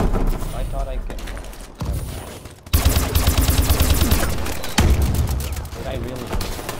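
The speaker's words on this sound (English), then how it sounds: "Oh, that sentry gun." A sentry gun in Call of Duty: Advanced Warfare multiplayer unloads sustained, loud automatic bursts, with heavier volleys kicking in partway through and continuing to the end.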